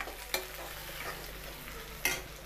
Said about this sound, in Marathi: फिरवून घेते मी।